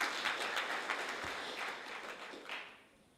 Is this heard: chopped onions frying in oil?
no